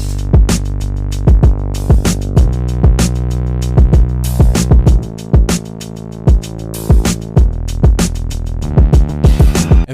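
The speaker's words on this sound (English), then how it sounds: "I programmed these crazy drums again." A hard-hitting programmed drum beat in a production, with punchy kicks and sharp snare and hat hits in a steady, driving pattern over a sustained deep bass line, loud and upfront.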